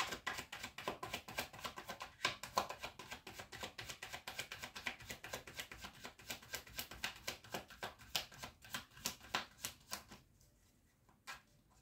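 Tarot cards shuffled by hand in a quiet room, a steady run of quick soft riffling taps and slaps, close and faint, continuing for several seconds before tapering off.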